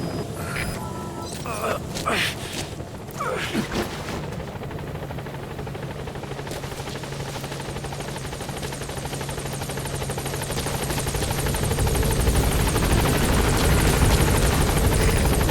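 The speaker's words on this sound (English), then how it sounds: "Support helicopter has arrived." A support helicopter in Metal Gear Solid V: The Phantom Pain, its rotor chopping and droning, grows louder and closer as it approaches, with a few sharp clatters early on and a constant engine whine.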